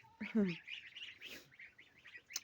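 Young goslings peep in a run of thin, high, repeated calls at close range, with a brief low voice near the start.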